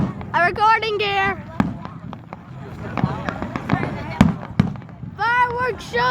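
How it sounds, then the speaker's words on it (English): Fireworks burst at an outdoor fireworks show: a series of sharp, separate bangs of varying loudness, close by. People talk excitedly in between and over the explosions. "Fireworks shows are awesome."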